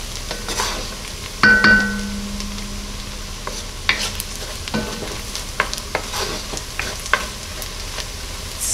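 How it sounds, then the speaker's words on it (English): Flour, garlic, onion and bacon sizzle softly in a pot while a utensil scrapes and stirs, with scattered close clinks and knocks over the steady frying. "you want to stir pretty consistently while this is happening"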